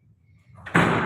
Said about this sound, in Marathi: ते दरवाजा जरा वडून घ्यायचा